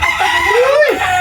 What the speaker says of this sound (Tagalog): Una pa yung mga manok oh.